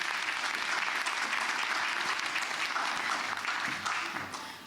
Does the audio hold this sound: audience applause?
yes